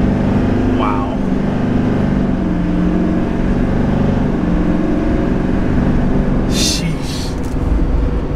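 A 2022 Chevy Silverado 3500 WT pickup accelerates from 20, its engine droning as a steady, building cabin rumble beneath someone talking throughout.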